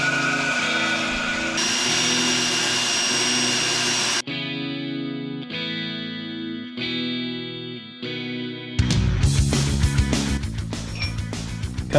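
A power tool cuts a part out of metal in several separate bursts, each a whining, buzzing tone that shifts pitch abruptly between passes, ending in a harsher, noisier stretch.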